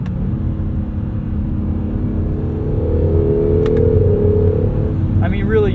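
The twin-turbo V6 of a 2017 Acura NSX, heard from the cabin, hums in a steady drone that swells and rises in pitch as the turbos spool, with a faint whine and a short clatter near the end.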